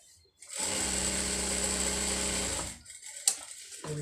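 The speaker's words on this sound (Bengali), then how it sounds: "এইভাবে ডাবল সেলাই দিয়ে নিচ্ছি।" A sewing machine runs a double line of stitching on a maxi dress, a brief, even mechanical whir lasting about two seconds, then stops, leaving faint handling clicks.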